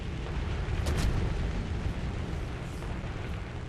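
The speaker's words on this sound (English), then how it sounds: "And all of these shots are coming in way too close." Shell explosions from enemy destroyer fire in the War Thunder video game, a dense roaring rumble with a sharper burst near the first second, steady and fairly loud with no talk.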